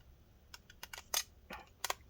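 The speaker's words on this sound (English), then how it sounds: "I'm going to push it now against this metal piece while I tighten these screws in." Small screws being tightened inside an ASUS N56J laptop while a part is pressed against a metal piece, giving a few faint, brief clicks and scrapes scattered over about two seconds with no speech.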